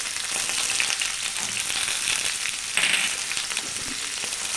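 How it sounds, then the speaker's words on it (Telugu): Washed, chopped tomato pieces cooking in hot oil in a pan for tomato coriander chutney, a steady loud sizzle with a brief crackling swell partway through, no voices. "శుభ్రంగా కడిగి ముక్కలు చేసుకున్న టమాటాలను ఉడికించుకోవాలి."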